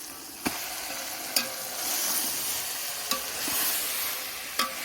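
Turnips and mutton sizzle in a pot as a spoon stirs them, with a steady frying hiss broken by several sharp metallic scrapes and knocks against the pot, close and without talk.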